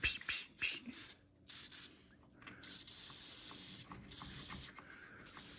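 Aerosol terminal protector sprayed onto car battery terminals in short and longer hissing bursts separated by brief pauses, close and fairly loud.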